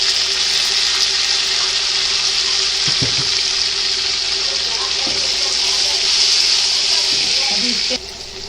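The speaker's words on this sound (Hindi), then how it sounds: "आलू को तेल के अंदर अच्छे से फ्राई करेंगे।" Potatoes for kanda bhaji frying in oil make a steady, close sizzling hiss with a few soft clinks mixed in, dropping in level near the end.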